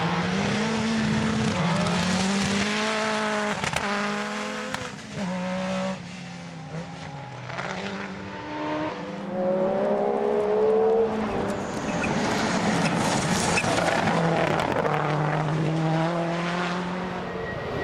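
Rally cars race on a tarmac stage, engines revving and shifting through gears in rising and falling sweeps, one car chasing another, loud and continuous, with sharp pops and throttle blips throughout.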